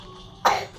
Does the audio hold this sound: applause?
no